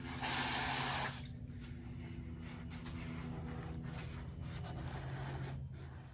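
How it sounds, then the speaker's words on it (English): Brake cleaner blasts from an aerosol can onto the airbox contact surface of a 2005 Honda CRF450R in a loud, close hiss lasting about a second, then gives way to a quieter low hum and faint shop noise. "So we do that with brake clean."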